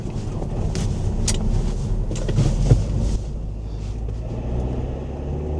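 A £380 van's engine runs unevenly after stalling and misfires sporadically. The idle rumble sits low and loud with irregular bumps and stumbles, and wind buffets the microphone close to it.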